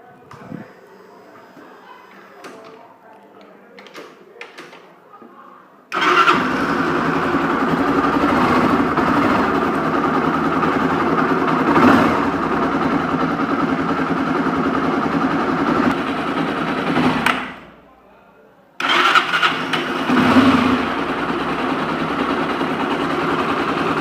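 A 2010–2011 Honda CB300 motorcycle engine starts after a quiet stretch and settles into a loud, steady idle with a gritty, sand-like rattle, cuts out briefly near the end, then runs again.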